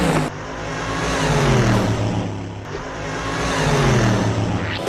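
A truck driving past at about 20 miles an hour, a steady loud engine drone with a rising and falling pass-by swell and rushing whoosh, no talking.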